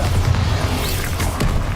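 A Bombarda blasting spell from a Harry Potter-style magic game detonates in a dense, sustained crash of noise, with a heavy low rumble and brief sharper cracks running through nearly two seconds, loud and close with no voices.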